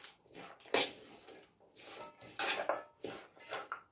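Green tomatoes with herbs and salt are stirred in a bowl, giving irregular scraping and wet clinking bursts of a utensil against the bowl, close up with no talk.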